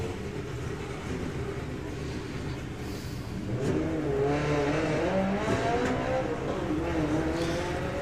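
Drag racing ET bikes launch off the line at a drag strip: a faint engine drone builds into a loud, rising howl partway through, with a sweeping pitch as the bikes accelerate away.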